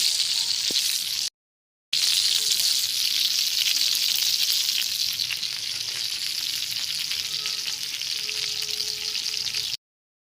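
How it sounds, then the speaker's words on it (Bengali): Fish frying in a pan, Pakistani style, crackling in a steady close sizzle with a brief gap early on, no talk over it. "দেখো দেখো আর মাছ ফ্রাই হচ্ছে গো"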